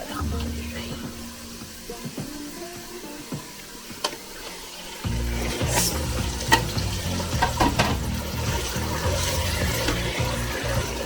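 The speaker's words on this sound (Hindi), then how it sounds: "अब इस मौके पे हम डालेंगे इसमें अपना मैरिनेट किया हुआ कीमा" Marinated minced meat drops into a pan of browned onions, the sizzle jumping louder halfway through and continuing as a strong frying hiss with occasional stirring clatter for a dhaba-style fried qeema.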